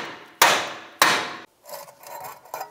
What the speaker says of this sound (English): And take a hammer, just give the rotor a tap.